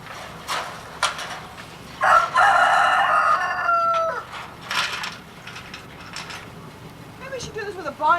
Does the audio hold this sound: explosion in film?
no